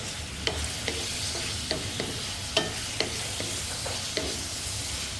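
Oil heating and sizzling in a pan for ginisang ginamos, a steady frying hiss with a few sharp stirring clicks and crackles scattered through, close and alone.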